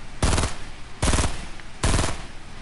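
Video game gunfire comes in three loud, rapid automatic bursts of about a quarter second each, spaced evenly and heard close with no talking.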